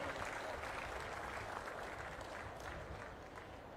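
Audience applause at a Chief Minister's land passbook distribution event for farmers, a steady, fairly soft wash of many hands clapping from a distance, sustained throughout.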